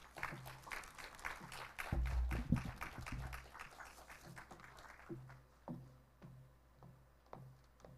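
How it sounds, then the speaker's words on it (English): An audience at a Philippines–Japan law conference applauds a justice taking the stage as keynote speaker, giving a moderate, fairly distant round of clapping that swells, then thins into scattered claps before fading. "A round of applause, please."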